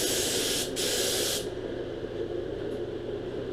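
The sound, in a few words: spray painting a coat on the inside of a go kart part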